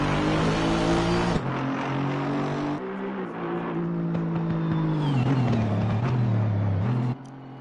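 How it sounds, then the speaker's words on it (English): A V8 Aston Martin Vantage race car at Mount Panorama roars loudly and steadily past concrete pit walls, engine note rising and falling through gear changes for several seconds, with no talk. "Beautiful sound of the V8 Aston Martin Vantage against the pit walls, concrete walls."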